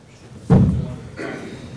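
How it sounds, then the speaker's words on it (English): A door being opened in a city meeting room, a single loud thump followed by a softer rattle, close by, with faint room noise and no clear talk. "Richard, could you just open that door?"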